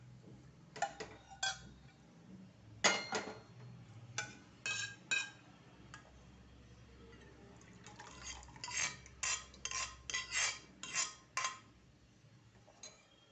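Cooked dal for Maharashtrian varan being scooped from one pot into another, heard as a series of sharp metal utensil clinks and scrapes in irregular bursts, close and fairly quiet, with no talking.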